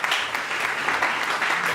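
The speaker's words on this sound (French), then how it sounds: "on applaudit le Seigneur." A church congregation claps together in a steady, fairly loud burst of applause filling the room.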